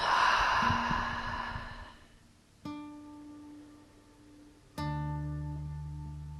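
A long breath out during yin yoga breathing, a soft airy exhale that fades over about two seconds, followed by quiet chime-like tones ringing on.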